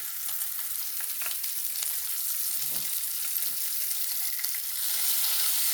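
Bacon strips sizzle steadily in a pan, a soft, fairly faint crackling hiss that carries on evenly with small pops and no talking.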